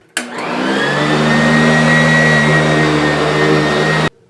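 A Sanitaire S661 heavy-duty upright vacuum cleaner switches on abruptly, ramps up and runs with a loud steady whine and rumble close by for about four seconds, then cuts off sharply.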